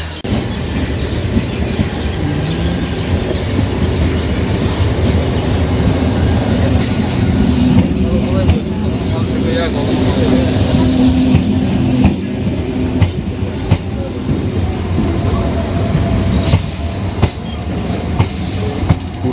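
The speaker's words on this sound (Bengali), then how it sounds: "পুরো ট্রেনটা ফাঁকা" A passenger train on the Kolkata to Gangasagar route rumbles continuously from inside or close by, with steady wheel noise, rattling carriages and occasional high squeals, loud and constant throughout.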